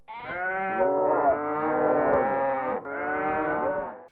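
Dairy cows on a farm moo in long, loud, harmonic calls, two sustained lowing bellows close to the listener with no talk over them.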